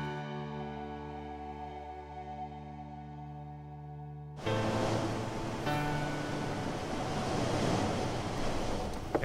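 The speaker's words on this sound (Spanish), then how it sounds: "¿cuántas olas vemos hoy?" Ocean surf breaking on a beach on an overcast day, a steady roar of waves that swells louder halfway through, with wind noise across the microphone and no talking.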